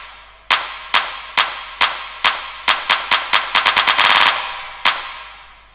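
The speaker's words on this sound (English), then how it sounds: "So I made a clap roll" Clap roll in a chillout trance track made in FL Studio: sharp, bright claps spaced evenly, then quickening into a dense burst of rapid hits before one final clap, loud and alone.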